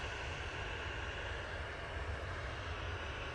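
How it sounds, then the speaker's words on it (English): An Emirates Airbus A380 departing Manchester Airport gives a steady, broad jet engine roar heard from a distance, continuous and unbroken with no voices. "It's our second A380 departure of the show today, which has been epic."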